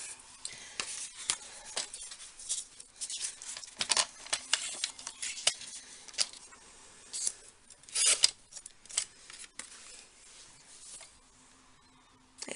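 Scissors trim inked paper pieces for a small keepsake box craft project, giving a run of close, quiet crisp snips and paper rustles spread irregularly across the stretch with no talking.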